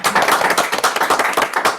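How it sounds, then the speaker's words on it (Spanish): A conference audience at a panel on fundamental rights claps continuously, with dense overlapping hand claps forming a brief, loud, steady burst of applause. "repitamos los aplausos"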